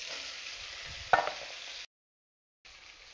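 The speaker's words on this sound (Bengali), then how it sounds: "পেঁয়াজগুলো হালকা ভাজা হলে কটা টমেটো দিয়ে দিলাম।" Onions and tomatoes fry in oil in a wok, a soft steady sizzle with one sharp clatter of a utensil, then a sudden break to silence before the quiet frying resumes.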